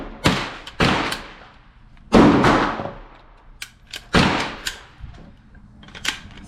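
Shots from a CMMG .22LR conversion kit firing Winchester white box ammunition, about half a dozen sharp reports at irregular intervals, each decaying quickly outdoors.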